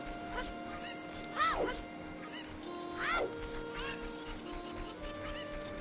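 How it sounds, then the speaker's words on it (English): Chickens clucking in a Zelda game, with a few rising squawking calls scattered over steady game music and background noise, moderately loud and up close. "Chickens. Yeah, don't fuck with the chickens."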